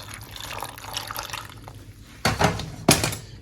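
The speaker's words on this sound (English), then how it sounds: "Go ahead and add some water" Water runs and splashes into a pot, a rushing pour with two louder bursts toward the end, no talking.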